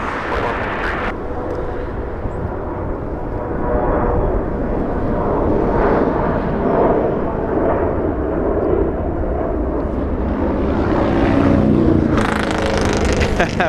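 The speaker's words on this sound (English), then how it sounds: "Big motorcycle passing right behind us, giving us a pretty good pass." A big motorcycle passes close behind a plane-spotting spot near LAX. A loud, rough engine roar swells and holds for over ten seconds before shifting as it moves by.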